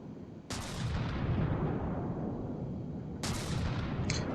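A heavy ram shell fired from a warship turret in a naval video game, two loud booming shots about three seconds apart, each a sharp blast fading into a long rumbling tail.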